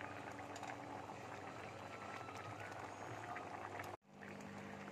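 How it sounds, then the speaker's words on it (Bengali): Dhoka simmer in a masoor dal curry, giving a soft, steady bubbling close by that cuts off sharply near the end before resuming. "ধোকাগুলো একটুখানি আমি ফুটিয়ে নিচ্ছি"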